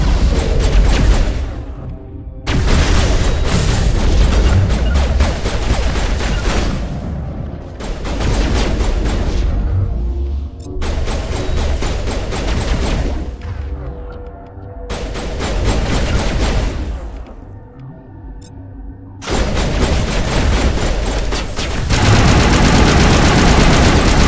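Loud, sustained gunfire in a Mass Effect 1 firefight: dense bursts of rapid shots and booms roll on in long blocks separated by brief lulls, close and overwhelming throughout.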